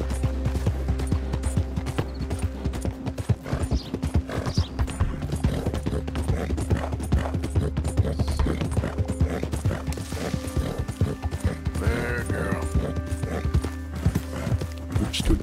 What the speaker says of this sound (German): aber ist ein schönes Pferd